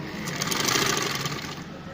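A sewing machine runs in a fast, even rattle while stitching lace trim onto a child's frock up toward the shoulder, close and continuous for a couple of seconds.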